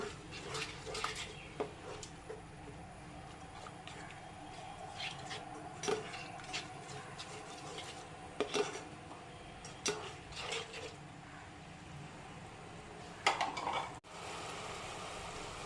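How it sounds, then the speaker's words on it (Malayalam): Pineapple payasam is stirred in a pot, with soft scraping strokes and scattered light clinks of a spoon against the pot at an irregular rhythm over a low, quiet background. "വീണ്ടും ഒന്ന് ഇളക്കി കൊടുക്കണം"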